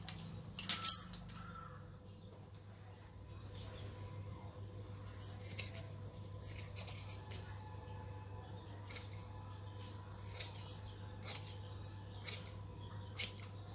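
Scissors snip through a piece of cloth in a tailoring class, a few sharp close cuts at the start, then quieter scattered clicks over a steady low hum.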